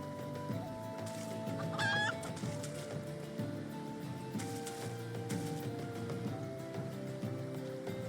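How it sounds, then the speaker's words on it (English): A chicken in Final Fantasy XIV gives a short burst of clucks, fairly clear over game music and ambient water sounds, with no talking. "Why is there just a random green chicken?"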